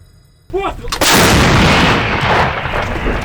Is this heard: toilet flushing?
no